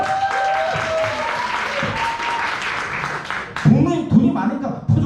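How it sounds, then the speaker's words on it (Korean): Audience applause at a company seminar in a Busan hotel, a dense steady wash of clapping throughout, loud and close, with voices and cheering mixed in and a livelier swell near the end. "박수!"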